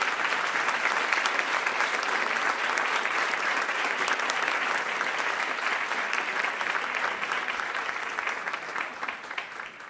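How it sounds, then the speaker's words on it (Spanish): A large audience at a Central American journalism forum gives sustained applause, a thick, even roar of many hands clapping that stays steady for about ten seconds and fades slightly at the close. "Pido para ellos un gran aplauso"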